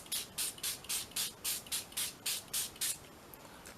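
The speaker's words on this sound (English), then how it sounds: "So I'm going to spray it with some water." Water misted onto mixed media paper from a spray bottle, about eleven quick, evenly spaced hissing pumps, close and fairly soft, with no voices.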